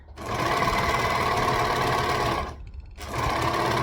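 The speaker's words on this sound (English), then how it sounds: "And I'm not even sewing, I'm overlocking." An overlocker serges light fabric with a loud, steady mechanical whir. It stops briefly before running again at the same even pace.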